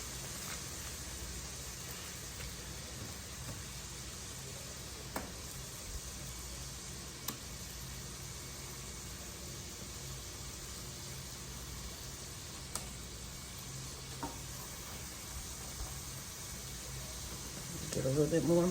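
Shrimp sizzles steadily in a hot frying pan, a soft continuous hiss with occasional faint pops and a brief clatter near the end.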